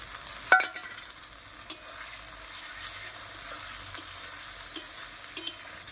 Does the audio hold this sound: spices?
yes